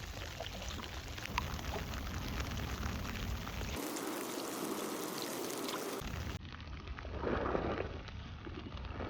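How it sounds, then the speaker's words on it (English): Steady April rain falls on a camp by a kayak with a makeshift shelter, a dense continuous patter that stays constant throughout, close and fairly even with no voices. "And it's raining already."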